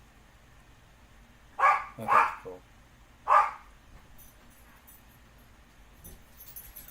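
A noisy pet dog barks indoors, three or four quick barks in two bursts over a low background hum, followed by brief talk.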